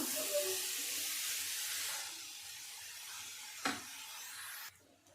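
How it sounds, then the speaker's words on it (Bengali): Grated carrots frying in ghee in a pan, a steady close sizzling hiss that fades somewhat midway, with a brief clatter near the end before it cuts off. "এবার একটু আমি হালকা করে ঘিয়ের মধ্যে আমি একটু ভেজে নেব"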